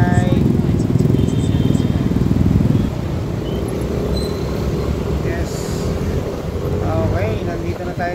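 A small motorcycle engine hums and revs steadily while riding along a service road, with wind noise and a person talking over the ride.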